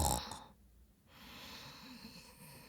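A voice imitates a spider snoring loudly, giving a single drawn-out breathy snore followed by a long wheezy exhale, close and fairly quiet.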